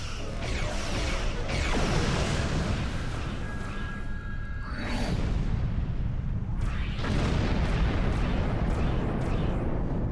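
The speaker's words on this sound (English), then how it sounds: "Oh, the station is firing at us now." Repeated heavy blasts and booming weapon fire from a space station in the video game Star Trek Online, with whooshing bursts, loud and close, coming in waves over several seconds.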